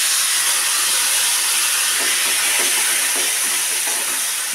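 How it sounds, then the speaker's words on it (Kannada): Grated ash gourd frying in hot ghee in a pan over medium flame, a loud steady hiss and sizzle throughout with faint stirring scrapes in the middle, no voices. "ಇವಾಗ ತುಪ್ಪ ಬಿಸಿಯಾಗಿದೆಯಲ್ಲ ಅದೇ ಬಾಂಡ್ಲಿಗೆ ನಾನು ತುರಿದಿಟ್ಕೊಂಡಿರುವಂಥ ಬೂದುಗುಂಬಳಕಾಯಿನ ಆ್ಯಡ್ ಮಾಡಿಕೊಂಡು ಚೆನ್ನಾಗಿ ಫ್ರೈ ಮಾಡ್ಕೊಳ್ತೀನಿ"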